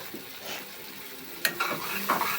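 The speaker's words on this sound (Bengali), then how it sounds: "এখন আমি লাড়াচাড়া দিয়ে মশলা দিব একটু" Onions and spices in a pan being stirred as they fry, a soft steady sizzle with a sharp utensil scrape against the pan and a few quieter scrapes after it, heard close.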